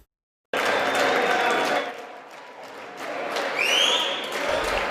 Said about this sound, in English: So they're clapping about it.